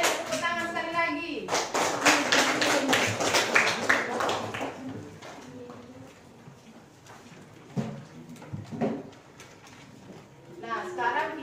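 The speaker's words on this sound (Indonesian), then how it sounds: "Sama kalian, tepuk tangan sekali lagi." A class of seventh-grade middle school students applauds in a burst of dense clapping for several seconds, which fades into quieter room noise and a little talk. A short second round of clapping starts near the end.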